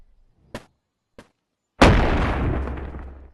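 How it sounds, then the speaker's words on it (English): Shotgun blast in the video game Animal Company: two small dry pops, then one loud close boom with a long crackling, rumbling tail, no voices. "We're gonna test out the shotgun"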